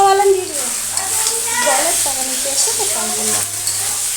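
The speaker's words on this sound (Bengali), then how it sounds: "আর এদিকে মশলাটা প্রায় কষানো হয়ে গেছে তেল ছেড়ে দিয়েছে দেখতে পাচ্ছেন" Masala spices sizzle and fry steadily in hot oil for an egg, potato and cauliflower curry, with a continuous close crackle running throughout beneath faint background music.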